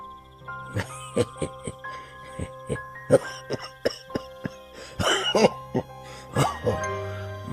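A run of short, sharp coughs repeats in an irregular rhythm over a steady musical background.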